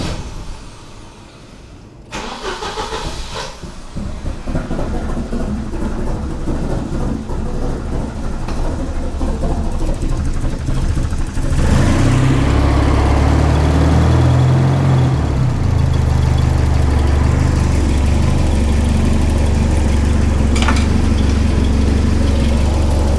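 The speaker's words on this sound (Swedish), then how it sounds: "då tar vi och startar bilen med tomgångsmotorn avstängd" A Volvo 940 engine turns over and settles into a steady idle, a continuous low rumble that grows slightly louder partway through.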